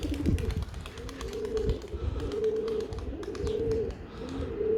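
Moulting pigeons in a coop coo repeatedly in a soft, rhythmic rolling pattern, several birds close by, with shuffling and faint fluttering in the background.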